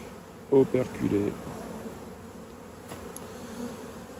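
Honey bees hum around an opened hive, a steady close buzz with a few louder passes near the start while a voice speaks briefly.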